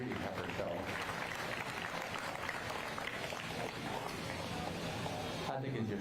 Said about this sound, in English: let's give these young people a round of applause for your championship in driving your breeding heifer show